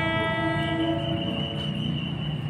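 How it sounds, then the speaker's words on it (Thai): Trains run in and out of the Bang Sue railway junction in Thailand, giving a steady, loud rail rumble with a sustained tonal horn or whistle held throughout, with no talk. "ชุมทางบางซื ่อรถไฟวิ่งเข้าออกตลอดเวลาเลยนะครับ"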